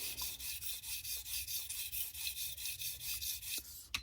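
A knife is drawn repeatedly over the stone of a Tsprof Pioneer guided sharpening system, producing close, evenly paced rasping strokes with a brief clack near the end.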